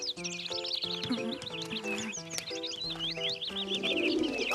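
Several pigeons coo in low, repeated throaty calls, close by, mixed with higher chirps and other bird sounds in a lively outdoor flock.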